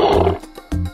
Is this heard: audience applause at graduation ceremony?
no